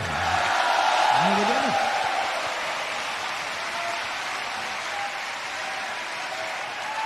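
A crowd at a devotional gathering claps in a dense, sustained burst of applause that swells early and then holds steady. A voice is heard briefly over the clapping.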